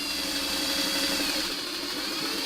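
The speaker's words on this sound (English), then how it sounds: "So let's get this under the sewing machine." A sewing machine runs steadily and continuously while stitching fabric pieces together, its motor whirring as a constant hum with no pauses and no talk.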